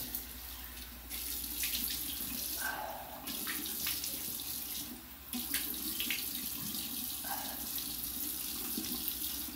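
Water runs from a bathroom tap as a face is wetted before a shave, a steady close rush with brief splashes and pauses as hands dip into the stream.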